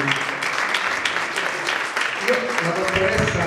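Teachers get a round of applause at a school award ceremony, many hands clapping steadily at moderate volume with voices talking faintly underneath toward the end.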